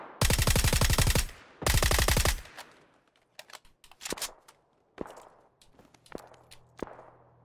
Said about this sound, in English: There's this guy trying to shoot me.